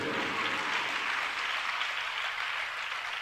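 Listeners at a religious discourse clap together in a hall, a soft, even wash of many hands at a moderate distance that holds steadily and slowly fades.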